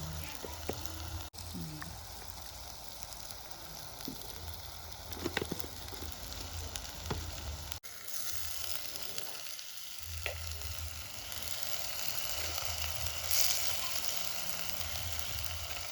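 Leafy-greens bhaji with garlic sizzles and fries steadily in a pan, a continuous close crackle with a few soft stirring knocks throughout.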